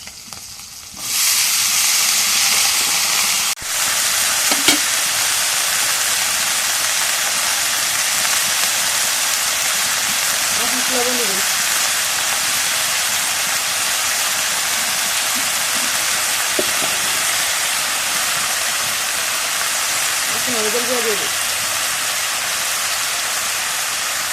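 Potatoes and Malabar spinach seeds drop into hot oil in a pan with chili, bursting into a loud, sustained hissing sizzle that continues steadily, broken by a few soft stirring sounds.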